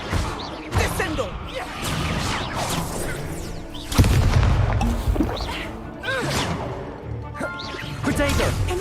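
Spell effects from Hogwarts Legacy combat, with the Descendo slam-down spell among them: a run of whooshes, crashes and heavy thuds, one big impact near the middle, while a player shouts spell names throughout.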